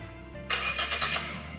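A boat engine cranks and catches once the throttle shifter is set to neutral, a sudden broadband roar that kicks in partway through and holds steady, fairly close and loud, with no voices.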